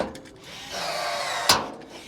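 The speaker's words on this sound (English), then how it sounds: "So he's going to drill that now." A power drill bores rivet holes during garden room construction, a brief whirring run followed by a sharp bite and a short burst of noise.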